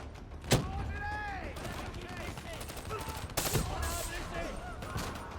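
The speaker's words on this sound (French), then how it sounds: "c'est l'arme qui tire de rafale de 2 balles par 2 balles" The XR2 rifle in Call of Duty Black Ops 3 fires a few sharp two-round bursts amid game effects and a busy background, with someone talking over the action.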